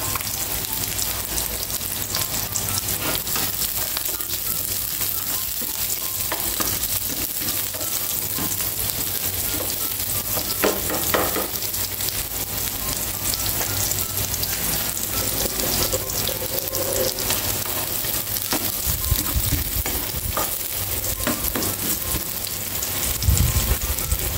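Garlic sautés in a pan for sinampalukang manok, giving a steady, close, broadband crackling sizzle that holds for the whole stretch, with a few louder bursts near the end and no talk.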